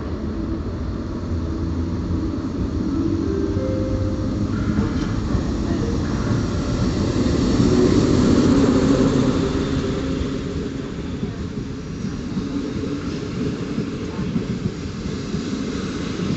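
Express Intercity Premium train at Warszawa Wschodnia station in Warsaw, running from Gdynia Główna to Kraków Główny: a steady, loud low rumble and rolling noise that swells near the middle and stays continuous throughout, with no talk.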